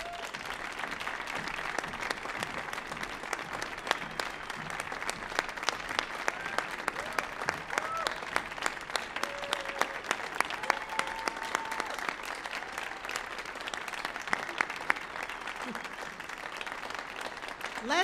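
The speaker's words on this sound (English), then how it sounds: "please join in another round of applause for our storytellers as they return to the stage" An audience claps steadily for storytellers returning to the stage at a Peace Corps storytelling event on the Millennium Stage, dense and sustained applause that never really swells or fades.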